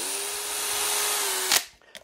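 A power drill unscrewing screws, its clutch set too low and slipping: a steady, high motor whine that runs for over a second, then stops with a brief rattling burst and a short final blip.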